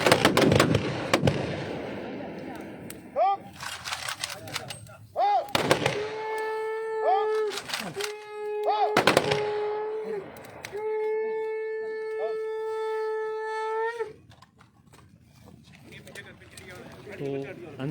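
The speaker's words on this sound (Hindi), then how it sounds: "तो तोपों की सलामी जिसे आप कहते हैं वो दी जा रही है और फायर करने के लिए जवान तैयार हैं" Gun salute fired by soldiers at a funeral: several loud, sharp blasts spaced seconds apart, mixed with sustained tonal notes and voices in the background.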